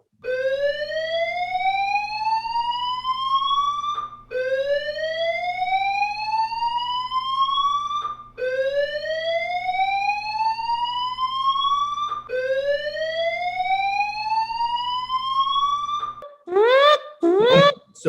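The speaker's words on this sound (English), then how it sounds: "Oh, the ship's alarms go off." A spaceship alarm sounds as four repeated rising electronic whoops of about four seconds each over a steady low hum, loud and unbroken, then breaks into faster warbling chirps at the end.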